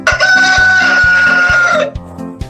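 A rooster crows once, loud and close, a long strained cock-a-doodle-doo held for nearly two seconds before breaking off, with soft clucks after.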